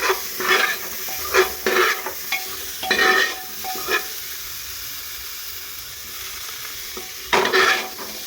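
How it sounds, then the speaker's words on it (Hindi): Radish and potato fry in a pressure cooker for khichdi, a soft continuous sizzle under repeated close scraping stirs that come in short bursts, with no one speaking. "अब इनको कुछ देर तक चला के इनको भून लेते हैं दोनों, ताकि पूरा हल्का से हल्का गल जाए।"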